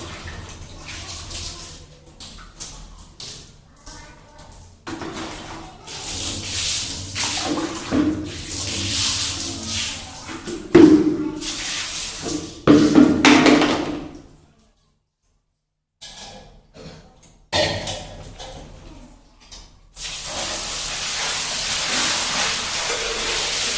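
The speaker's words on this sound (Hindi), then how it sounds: "अब आप लोग ये वाली आवाज़ सुनना पानी की, कितना ज़्यादा अच्छा लगेगा।" Water poured down a staircase while the stairs are washed in an empty old house during Diwali cleaning: loud, steady rushing and splashing, with a brief silent gap before the flow resumes.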